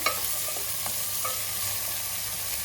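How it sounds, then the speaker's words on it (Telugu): Vegetable pulao mixture of green, red and white vegetables being stirred in a pan, a steady close scraping with soft sizzle and a few light clinks throughout, no voices. "ఇదైతే మొత్తం ఒకసారి కలిపేసుకుంటున్నాను"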